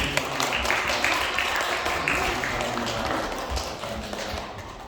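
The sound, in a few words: church congregation clapping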